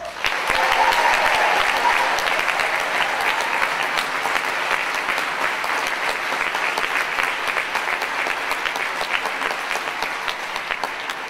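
Sustained, dense applause from a concert audience for the director of the Vocal Project choir, holding steady and full for over ten seconds with no speech over it.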